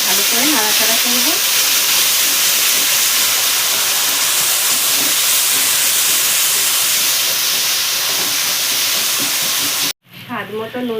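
Chilli powder and turmeric frying in a pan, a loud continuous hiss and sizzle that fills the space close up, with faint voice-like tones early on and a sudden cut near the end.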